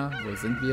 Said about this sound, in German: Da ist der Hahn.